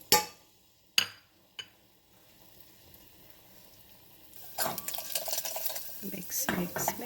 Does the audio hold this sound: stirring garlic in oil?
yes